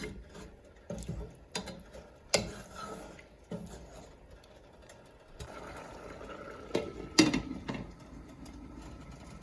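Intermittent scraping clinks and taps of a utensil stirring shrimp masala in a pot, irregular strokes over a soft simmering bubble.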